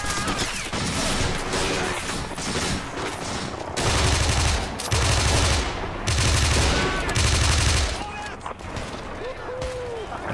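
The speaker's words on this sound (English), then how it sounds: "Whoa, Germans opening up on me on the right. Whoa, lots of small arms fire." Heavy small arms gunfire crackles almost nonstop in the World War II strategy game Men of War, with dense rifle and machine gun bursts and some heavier booms, while someone talks over the battle.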